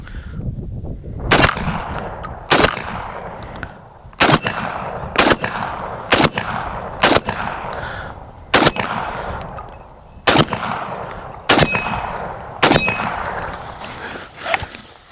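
Sharp, loud blasts from a Mossberg 930 JM Pro semi-automatic shotgun firing at golf balls outdoors, roughly a dozen shots in irregular clusters, each with a quick decaying echo.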